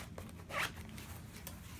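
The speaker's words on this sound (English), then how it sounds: "and it zips closed." Zipper closing on a Barbour Beaufort waxed jacket with fleece lining, one short quick zip pull heard up close against quiet room noise.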